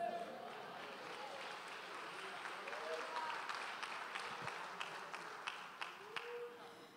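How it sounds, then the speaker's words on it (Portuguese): A church congregation applauds during a Portuguese-language service, producing a soft, steady patter of many hands clapping. Faint voices murmur beneath it and a few sharper claps stand out near the end. "A igreja pode se assentar, sentando, aplaude Jesus"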